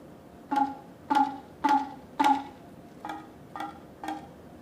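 Seven crisp strikes on two very similar Japanese hand drums at an even pace, four louder, ringing hits followed by three softer, thinner ones, heard up close with no talking.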